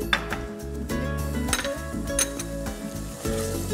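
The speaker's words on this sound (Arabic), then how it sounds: "عليها كطماطم والهريسه تتقلى مع البصل والثوم ونفوقه" Tomato paste and harissa fry with onion and garlic in a pan, giving a continuous close sizzle with scraping stirs and light metallic clinks of a utensil.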